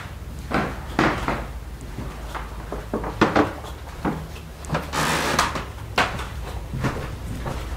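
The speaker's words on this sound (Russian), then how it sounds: "слышно скрипы пола. То есть вот так они скрипят, когда я хожу." Old wooden house floor creaking and knocking under footsteps as someone walks through a room, a series of irregular dry creaks and thumps close by, moderately loud with no talking.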